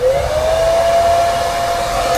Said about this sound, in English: My blow dryer. I have this on high heat, I'm gonna put it on low